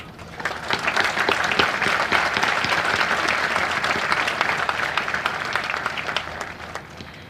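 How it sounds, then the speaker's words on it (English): A high school graduation audience breaks into sustained applause, a dense wash of many hands clapping that swells quickly, holds steady for several seconds and starts to thin near the end. "I ask now that we give a round of applause in appreciation of those who have supported"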